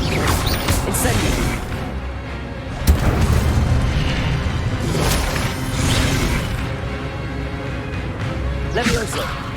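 A player casts the Incendio fire spell in the video game Hogwarts Legacy, producing repeated whooshing bursts and booming impacts amid game combat noise. A character's voice shouts spell names throughout.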